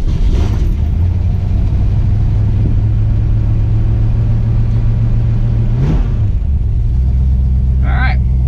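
A 1966 Mustang being driven, its engine holding a loud, steady low rumble from inside the car, then shifting pitch briefly as it changes speed before settling into a deeper drone.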